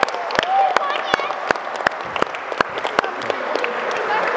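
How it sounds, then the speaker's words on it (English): Applause for children at a mini basketball coaching clinic: sharp, uneven hand claps over a steady crowd clatter, moderately loud, with voices murmuring underneath. "Second round of applause for the kids"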